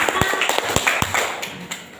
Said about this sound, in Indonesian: tepuk tangan kita semua Bapak Ibu